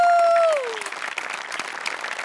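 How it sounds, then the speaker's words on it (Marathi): A studio audience at a comedy show breaks into applause after a sustained tone fades, clapping continuing as a dense, lively patter for the rest of the moment. "आपले सगळे सेटिंगवाले यांच्यासाठी एकदा जोरदार टाळ्या."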